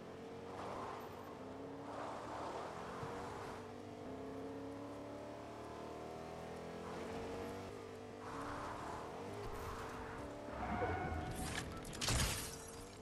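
Video-game car driving along, a steady engine drone with rising and falling revs and a crunching crash near the end, moderately loud with no talk over it.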